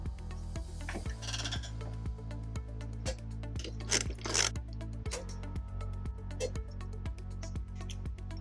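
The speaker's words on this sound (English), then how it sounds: "Now tighten and torque the hardware to the manufacturer specifications" A socket wrench with a 17 mm socket and extension ratchets steadily while tightening M10 bolts on a trailer hitch being installed on a 2014-2015 Kia Sorento, giving a regular train of close mechanical clicks over a low hum.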